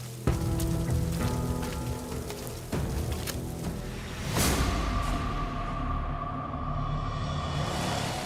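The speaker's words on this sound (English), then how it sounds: "Now, rain is making the pad even softer." Steady rain falls on the soft, muddy ground of a gold-mining site, a dense continuous hiss with scattered drop patter and low rumble running throughout, fairly close and loud with no talking.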